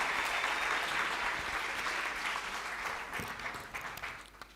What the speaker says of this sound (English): A big round of applause for Sieteba, please.